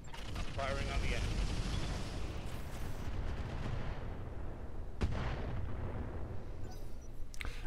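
Mech weapons firing at an enemy in the Roguetech video game, with heavy booming artillery-like blasts over a loud continuous rumble and a sharp hit near the middle.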